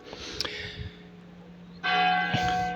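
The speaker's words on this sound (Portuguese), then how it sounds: "deve estar ali a dar o sino." Church bells ring out loud and close, a bright clanging peal that cuts in abruptly after a quieter stretch of faint tolling, with no speech.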